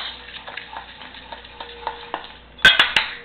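Dry raspberry crisp topping ingredients being mixed together by hand, heard as soft, close scraping and stirring strokes, then a few sharper utensil clinks near the end.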